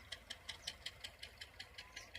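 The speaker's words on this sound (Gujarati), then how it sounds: "જો આ ટ્રેક્ટર છે ચાલુ છે ટ્રેક્ટર રાપલવાનું કામકાજ હાલે" Tractor engine running in a groundnut field during harvest work, a faint, steady mechanical knocking with regular ticking pulses about five per second, heard from a distance with no talking.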